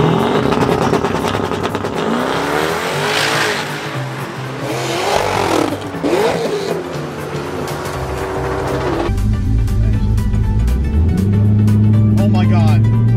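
Loud, high-horsepower drag car of about 1100 wheel horsepower on a run, its engine roaring and revving continuously at close range, the tone rising in sweeps before dropping to a deeper drone near the end.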